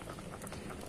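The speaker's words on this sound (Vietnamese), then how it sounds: "Bây giờ nó luộc khoai lang." Sweet potatoes boiling in a pot on a wood-fired stove, a steady soft bubbling and pattering wash, continuous and fairly faint, with no voices.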